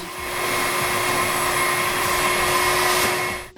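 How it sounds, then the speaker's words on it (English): A vacuum cleaner runs steadily at close range, a continuous whirring drone with a fixed tone, holding level for a few seconds and cutting off at the end. "A vacuum cleaner operates at 70 decibels."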